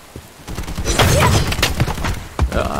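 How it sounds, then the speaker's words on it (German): Rapid gunfire and heavy impacts pour in from all sides during a firefight in the video game Bright Memory Infinite, a loud, dense barrage of shots and thuds that swells and keeps going. "Alter, die ballern ja von allen Seiten hier."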